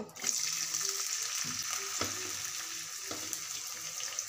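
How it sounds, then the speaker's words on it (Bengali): Chopped onions frying in hot oil make a steady, moderately close sizzle, with a few soft knocks and clinks from the pan along the way. "পেঁয়াজগুলো আমি একটু লাল লাল করে ভেজে নেব"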